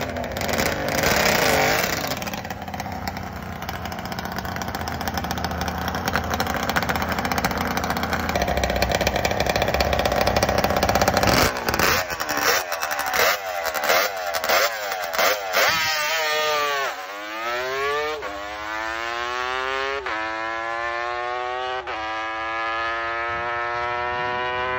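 A 1976 Kawasaki H1 500 two-stroke drag racing motorcycle engine runs loud and near, with a raspy buzzing idle and revving, then several sharp throttle blips whose whining pitch sweeps up and falls back.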